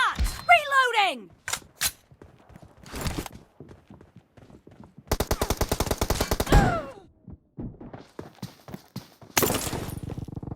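Video game gunfire: sharp shots and rapid automatic bursts with reload clicks, mixed with game effects and sound cues in a busy match.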